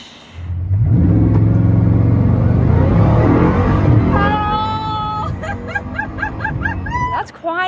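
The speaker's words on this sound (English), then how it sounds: "You're going to get like the raw thunder from the engine" A Bugatti Tourbillon's naturally aspirated V16 builds into a loud, deep rumbling rev that rises in pitch over several seconds before cutting off, with higher whining tones near the end.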